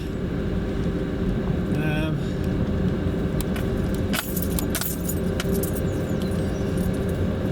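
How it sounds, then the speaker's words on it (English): Car rolling slowly along an allotment back road, a steady low road and engine hum throughout with a brief jangle of keys and a few clicks, while someone talks over it. "Just driving round to my plot now."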